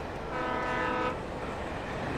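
A train horn blares from a passing train in the Alan Wake video game, a sustained harmonic blast of about a second over a steady low rumble of rolling rail cars, with no talk.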